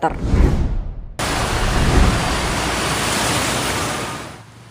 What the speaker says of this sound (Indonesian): Hujan deras yang mengguyur Jakarta dan sekitarnya mengakibatkan genangan air di sejumlah wilayah